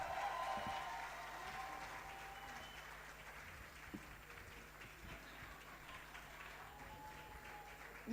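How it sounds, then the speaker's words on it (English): Audience at a health trust event keeps up steady applause, a continuous mid-distance patter of many hands that starts strong and slowly thins, with faint murmurs underneath. "Keep clapping until she comes."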